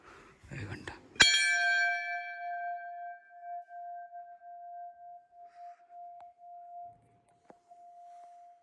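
A temple bell at the Shri Kalambadevi shrine in a village in Patan taluka is struck once after a short burst of voices, its bright clang settling into a long, steady ringing hum that fades slowly over several seconds.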